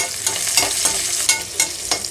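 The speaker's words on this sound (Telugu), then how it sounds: "ఇది కొంచెం వేగనిద్దాం ముందుగా." Green chillies frying and being stirred in a pan for chicken biryani: a loud sizzle broken by several sharp scraping stirs, with no voices.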